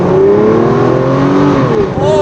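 An Aston Martin DB9 Volante engine revs loud and close, a smooth rising and sustained tone that dips briefly near the end before picking up again, with a voice underneath.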